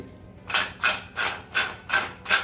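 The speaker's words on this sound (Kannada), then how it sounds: "ಇದು ಈ ಥರ ಪುಡಿ ಪುಡಿ ಆಗೋಗ್ಬಿಡುತ್ತೆ ನೋಡಿ" Crunchy homemade papdi snack, made from leftover flour without soda or maida, crumbling into pieces in six crisp, evenly spaced crunches, close and clear.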